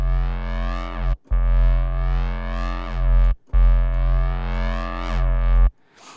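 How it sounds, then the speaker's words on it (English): Drum and bass sub bass layered with a distorted, controlled mid-range synth, built in Reason, plays as three loud sustained notes split by brief gaps, with no talking. "you've also got a controlled mid-range with some nice distortion on"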